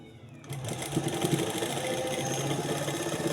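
A sewing machine stitches along the front edge of a sleeve, running steadily and close after a short quiet start, with a continuous mechanical whir and rapid needle chatter throughout.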